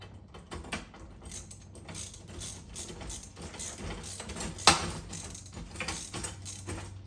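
Bolts being snugged down on a Ford Bronco spare tire carrier rack, giving soft ratcheting clicks and small metallic mechanism noises at close range, with one sharper clack near the end and no talking.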